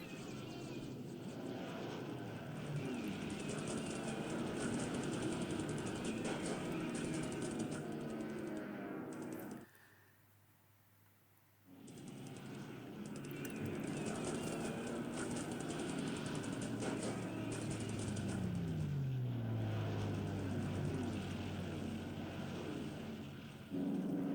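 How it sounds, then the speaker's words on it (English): Aircraft engines drone in a War in the Pacific video game as Warhawk fighters dive on escorting Zeros, a sustained buzzing roar that drops out for about two seconds and then returns. "So the Warhawks are diving on my escort zeros"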